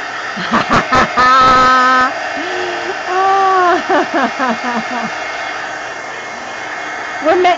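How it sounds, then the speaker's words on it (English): A handheld heat gun blows hot air in a steady whooshing drone while crafting with magazine paper, with someone talking and humming over it in short bursts. "Heat gun."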